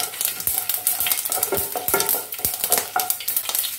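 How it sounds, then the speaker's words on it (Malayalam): Mustard seeds popping and sizzling in hot coconut oil in a pan: a dense, continuous crackle with irregular sharp pops over a soft frying hiss, close and moderately loud, with no voices. "വെളിച്ചെണ്ണ നല്ലപോലെ ചൂടായി വന്നപ്പോഴത്തേക്കും ഞാൻ അതിലേക്ക് 1/2 teaspoon കടുകിട്ടു."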